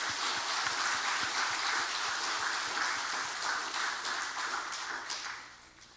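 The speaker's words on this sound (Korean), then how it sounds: "옆에 계신 어르신들을 위해서 박수 한번 하십시다." Church congregation clapping in honor of the elderly members, a thick, steady patter of many hands that fades out near the end.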